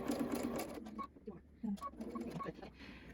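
A sewing machine stitches elastic into a fabric face mask in short, uneven bursts. Close-up mechanical clicking comes and goes under a voice that is talking.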